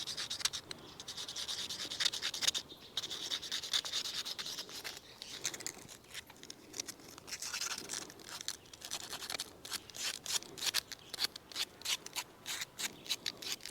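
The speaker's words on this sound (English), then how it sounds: "And I'm trying to sand down to make it curve naturally" A Kalij pheasant hen's beak is sanded down in quiet, rhythmic rasping strokes that come close-up and grow quicker and choppier toward the end, with no talking.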